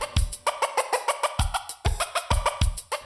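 Old hens, about five years of age, clucking in quick, repeated bursts, close by, with short pauses between groups of clucks.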